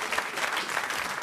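Studio audience on a French radio comedy show applauds, a brief, steady burst of clapping from many hands.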